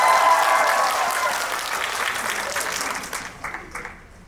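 An audience at a film screening talk claps loudly. The applause is strongest at the start, fades gradually over a few seconds, and trails off into a few scattered claps.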